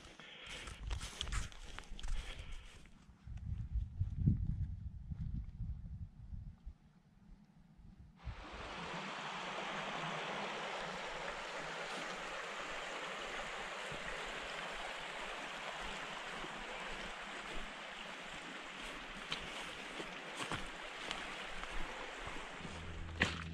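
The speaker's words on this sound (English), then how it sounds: "So now I have to try and cross over the River Plym and find the Abbot's Way again." The River Plym rushes over rocks on open Dartmoor, a steady broadband water roar that starts abruptly partway through after footsteps and rustling, then continues close and constant.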